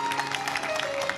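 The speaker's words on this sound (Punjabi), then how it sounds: "ਇਹ ਚਿੱਟੇ ਕੱਪੜਿਆਂ ਵਾਲੇ ਇੱਕ ਵਾਰੀ ਜ਼ੋਰਦਾਰ ਤਾੜੀ ਲਾਓ।" Dense applause from a crowd at an annual jor mela religious fair with a live stage performance, a steady unbroken wash of clapping that holds at even loudness throughout.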